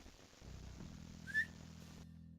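A character in the video game Mafia 3 gives a single short, soft rising whistle to draw a guard, heard faintly over a quiet low hum.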